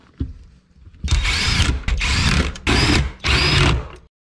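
A power tool drives four 12 mm bolts into an aftermarket shifter on an Acura RSX, with four close, loud whirring bursts of under a second each, separated by brief pauses and preceded by a few small clicks.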